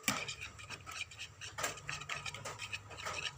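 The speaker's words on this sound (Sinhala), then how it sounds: "අපි මේක චුට්ටක් කලවම් කර ගන්නවා." Metal spoon clinking and scraping against a bowl while bread pizza ingredients are stirred together, a soft, close run of irregular taps and scrapes with no voices.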